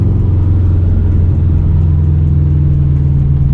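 A 2004 Subaru WRX STI with equal length headers rumbles loud and close in a deep, steady, throbbing idle with a slight pitch shift midway, heard alone.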